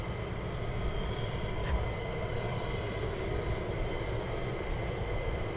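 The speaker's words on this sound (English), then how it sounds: "You're here to listen to these beautiful aircraft taking off." A military jet engine roars at RAF Lakenheath, making a loud, steady, broad rumble that holds throughout without any voices over it.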